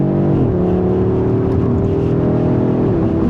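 A 2025 Audi RS 3 turbocharged inline-five engine revs steadily with a smooth, droning hum that rises slightly and dips near the end, close and fairly loud.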